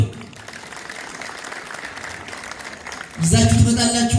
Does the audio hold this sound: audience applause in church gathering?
yes